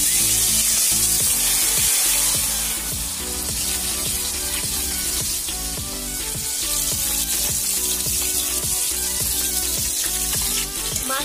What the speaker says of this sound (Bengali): মাছটা ভাজা প্রথমে ভালো করে ভেজে নেবো